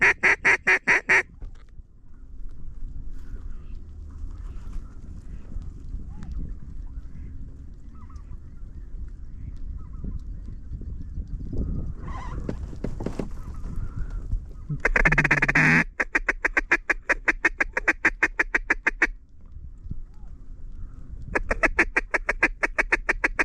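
Mallard ducks quack loudly and in repeated rapid bursts near a tiny island during a solo kayak duck hunt, with quieter stretches of outdoor background between the calling sequences.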